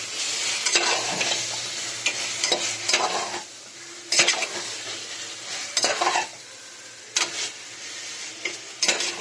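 Chicken biryani masala is stirred in a hot pan. Scraping stir strokes come in short irregular bursts over a soft, continuous sizzle, all close by.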